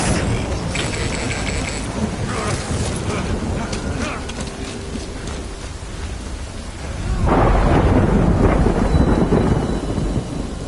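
Steady rain pours in the Death Stranding video game while thunder rumbles loudly and continuously, swelling into a heavier roar toward the end.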